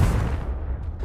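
A Confringo fire spell explodes in Hogwarts Legacy, a single deep, booming blast that fades quickly.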